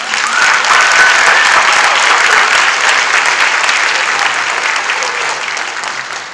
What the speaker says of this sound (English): I want to give each of them a round of applause